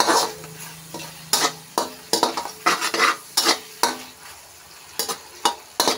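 Ginisang canton noodles with mushroom and tuna stirred in a pan, close scraping strokes of a utensil in an irregular rhythm over a soft background sizzle, no voices.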